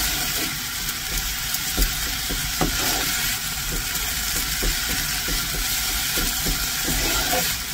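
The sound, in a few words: leafy greens frying in a pan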